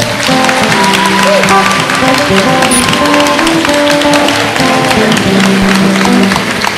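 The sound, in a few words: church congregation applauding and cheering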